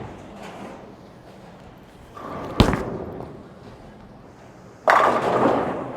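A bowling ball is thrown down the lane with a sharp thud on release, then a rolling rumble, and a louder crash burst near the end, all in a reverberant alley.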